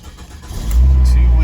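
An old $1000 auction car's engine cranks and fires up after sitting two weeks, quickly settling into a loud, steady close-up rumble.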